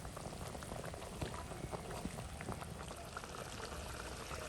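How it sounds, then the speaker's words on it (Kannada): Water boiling hard in a pot for an egg masala, a dense, steady bubbling roar with scattered pops and gurgles, close and continuous throughout without any voices. "ನೋಡಿ ಒಳ್ಳೆ ಕುದೀತಾ ಉಂಟು"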